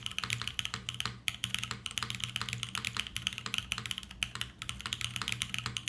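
Typing on an Austin R3 mechanical keyboard built with an FR4 plate: a quick, fairly quiet run of crisp, close keystrokes in an uneven rhythm, with no voices.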